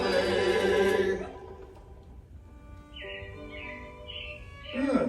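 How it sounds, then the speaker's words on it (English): Robins chirp in a short series of repeated bright calls at Disney's Magic Kingdom, following the fading end of music and set against a low ambient background. "it looks like the Robins are getting ready to celebrate Valentine's Day today"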